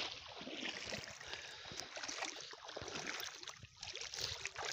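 Someone wades through a cold river, feet pushing through water in faint, uneven splashes and swirls over a continuous stream-like rush.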